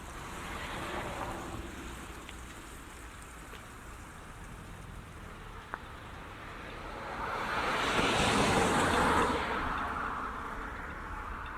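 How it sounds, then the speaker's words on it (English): A car passes by on a street, its rumble swelling to a peak then fading against a steady outdoor background hiss. "there you will hear the cars going by"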